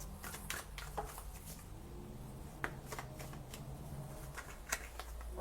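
Tarot cards being shuffled and drawn during a daily reading, giving a steady close riffling rustle with several sharp card snaps standing out, heard alone without speech.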